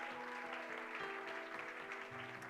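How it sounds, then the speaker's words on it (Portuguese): A church congregation applauds its adolescents in a steady, quiet wash of clapping that runs throughout, with a faint sustained tonal hum beneath it. "Vamos dar um aplauso também a nossos adolescentes."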